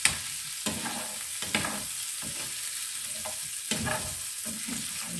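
Mung beans stirred in hot oil in a pan, a steady sizzle broken by several distinct scraping stirs at irregular intervals, close and moderately loud with no talking.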